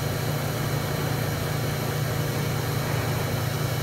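Kitamura Mycenter 2Xi machining center spindle running at 3,000 RPM, a steady, continuous low hum with a broad hiss of machine noise, holding even in level throughout with no speech.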